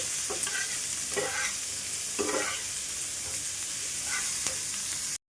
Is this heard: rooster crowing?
no